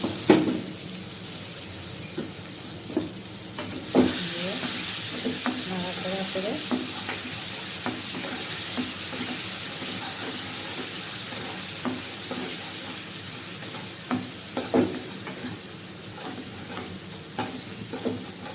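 Onion and spices for a rohu fish curry sizzle steadily in a pan while a spoon stirs and scrapes, with clear tapping clinks throughout and a louder burst of frying near the start.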